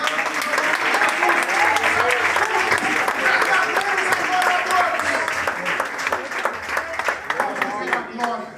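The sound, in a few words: congregation applauding in church service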